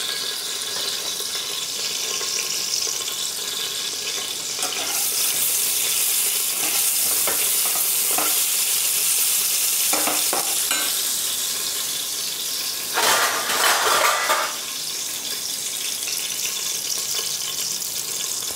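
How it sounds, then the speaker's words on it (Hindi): Whole spices (cinnamon pieces, black cardamom, cloves and black peppercorns) fry in a pressure cooker for aloo dum pulao, giving a steady close sizzle with occasional brief clatters and a louder burst near the end, with no voices. "खड़े मसाले हमारे भून गए हैं।"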